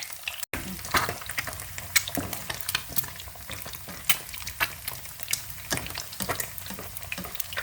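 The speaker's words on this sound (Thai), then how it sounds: "ทอดไข่ดาวทอดไข่ดาว" Eggs fry in hot oil in a pan with a dense, crackling sizzle and frequent sharp spits and pops, heard up close and alone throughout.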